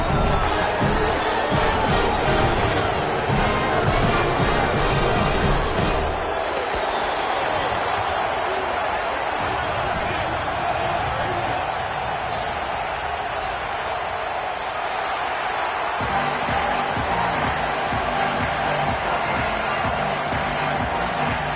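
Steady roar of a packed stadium crowd at a college football game in College Football 27, a continuous dense wash of cheering and murmur with shifting swells and no clear break throughout.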